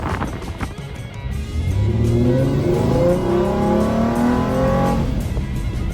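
The engine of a Kia Stinger GTS with its intercooler removed revs hard and close, the pitch climbing steadily through a long, loud acceleration.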